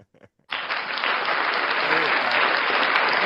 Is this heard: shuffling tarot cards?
no